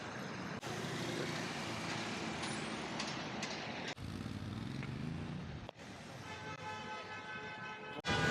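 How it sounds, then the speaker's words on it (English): Dense city street traffic in Tangier rumbles continuously with trucks and buses passing close, air brakes hissing and short horn beeps breaking through, and a faint voice briefly audible. "There's traffic everywhere, beeping of horns."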